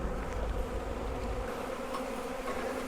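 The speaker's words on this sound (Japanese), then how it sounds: "雨上がりには花からたくさん水分あるいは蜜が出ているので、ミツバチたちもご機嫌ですね。" Honeybees buzzing around a hive box after rain on a windy spring day, a dense steady hum close up with no voices.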